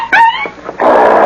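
A dog whimpers and growls in short, close, fairly loud bursts, with a higher whining cry first and a rougher, broader snarling sound after it, alone without talk.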